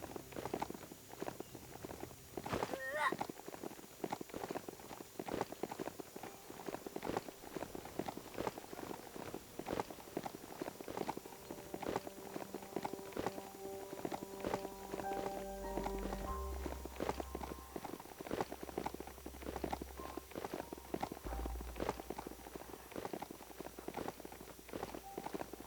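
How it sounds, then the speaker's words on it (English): A robot horse galloping in the Biomutant video game, a long run of steady rhythmic hoof beats, close and moderately loud, with low game ambience and sporadic tones underneath. "Onward, robot horse."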